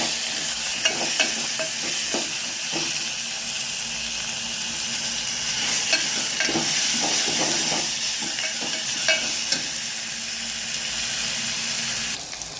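Onion and tomato sizzle and hiss steadily in a hot pan while being stirred, with scraping clinks of the spatula rising above the constant frying noise; no one speaks.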